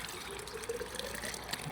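Spring water from a roadside source pours into a bottle before a mountain climb on a bicycle trip through Albania, a short, steady trickling fill with no talk.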